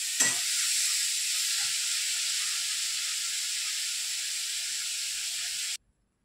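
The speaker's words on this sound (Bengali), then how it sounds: "আমার এখানে বেগুনটা ভাজা হতে থাক" Eggplant slices sizzle steadily in hot oil in a frying pan, a close, continuous hiss with a brief stir near the start, cutting off abruptly near the end.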